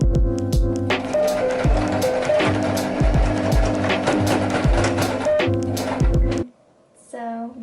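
Sewing machine stitching elastic inside a fabric headband tube, a steady rapid mechanical chatter running loud and close for about six seconds before stopping, with brief fabric handling and a faint voice after.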